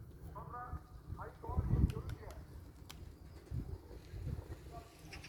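Pigeons kept as flying birds in Ankara, soft throaty cooing in short repeated phrases, close and quiet, with low bumps and rustles between calls and a few faint voices.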